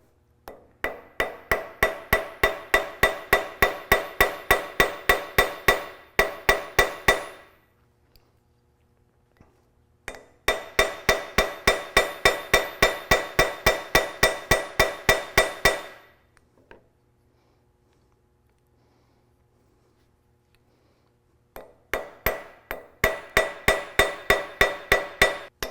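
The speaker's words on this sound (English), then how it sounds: "that's why I'm using the flat side of the ball peen hammer" Rapid, even metallic tapping of the flat side of a ball peen hammer on bronze blocks, in long runs of quick strikes broken by pauses of silence, close and sharp.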